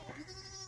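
A goat bleats briefly and faintly, a short wavering cry with quiet background noise and no talking.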